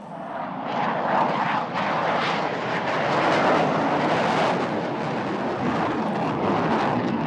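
Pakistan Air Force JF-17 fighter jet flying a high-G agility display at an airshow, its engine roar loud and continuous throughout, swelling and shifting as it turns.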